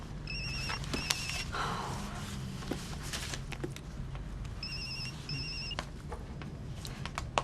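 An indoor telephone rings in two short double-trill bursts, fairly faint and set against low background room noise and small clatters, with no speech.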